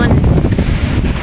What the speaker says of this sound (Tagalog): Namumuti lang kasi sobrang lakas talaga ng alon.